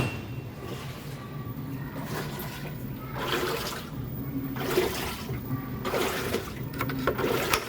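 Water spraying and rushing inside an LG Inverter WT-1385TH coin-operated washing machine under repair, a steady close gushing with pulsing surges that grow louder toward the end.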